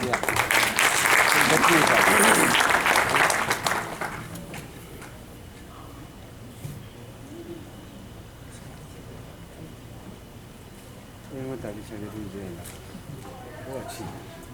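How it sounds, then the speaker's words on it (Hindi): A burst of audience applause at a mushaira and kavi sammelan poetry gathering rings out for about four seconds, then fades to quiet room sound with faint scattered claps and soft talk. "तरन्नुम शब्बीर, आपकी तालियों।"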